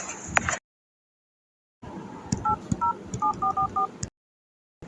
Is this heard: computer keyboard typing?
no